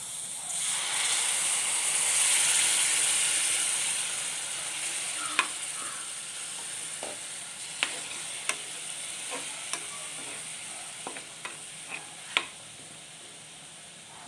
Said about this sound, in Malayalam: ഇത് ഒരു ചെറുനാരങ്ങ വലിപ്പത്തിലുള്ള പുളി പുഴിഞ്ഞെടുത്തതാണ് അത് ഒഴിച്ചു കൊടുക്കുക